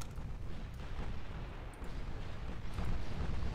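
Deep rumbling booms from torpedo hits on warships in the naval game Ultimate Admiral: Dreadnoughts, a continuous low, heavy roar with a few swelling impacts, steady and moderately loud.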